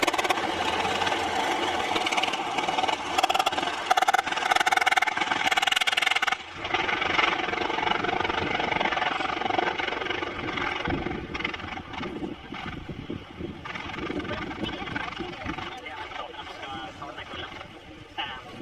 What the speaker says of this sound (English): This is how two helicopters would drop soldiers into an active battlefield.